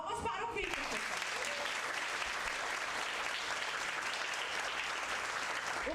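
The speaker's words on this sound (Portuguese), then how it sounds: "Palmas para o Vitor, pessoal." An audience at a university accounting-week lecture claps for a former student: a full, even burst of applause starting sharply after a brief moment of speech, then continuing steadily and close.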